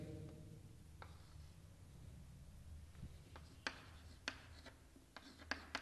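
Chalk or marker strokes on a board during a chemistry lesson, a series of short sharp taps and scratches spaced a second or so apart over quiet room noise, growing more frequent toward the end.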